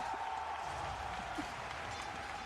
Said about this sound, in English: Where are those crowd noises coming from?